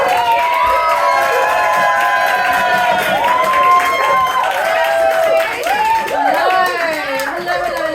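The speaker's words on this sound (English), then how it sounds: "I need you to stomp your feet, and I need you to clap your hands" A comedy-night audience at an International Women's Day stand-up show cheers, whoops and claps loudly, with shouted voices rising over continuous clapping throughout.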